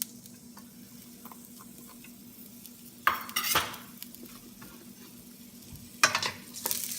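Onions go into hot olive oil for Japanese fried rice, with a soft simmering sizzle under bursts of louder crackling and utensil scraping around the third and sixth seconds, close and fairly quiet.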